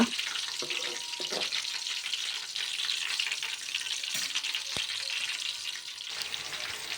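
Chopped green chilies frying in a pan for egg fried rice, a soft continuous sizzle with a few clicks and stirring knocks, with no voices.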